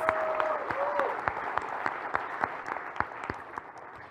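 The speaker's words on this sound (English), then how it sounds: "I think we should give a big round of applause for these designers." Audience applause at a live product launch event for Realme 3 phones, a steady broad wash of clapping with sharper individual claps standing out, moderately loud throughout, with a brief tonal sound near the start.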